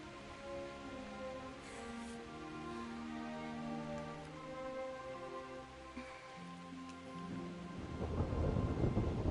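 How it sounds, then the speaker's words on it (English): Thunderstorm with rain inside a PS4 video game, low rolling rumble layered with sustained tonal music, rain hiss swelling louder toward the end, no speech. "Not afraid of thunderstorms, are you?"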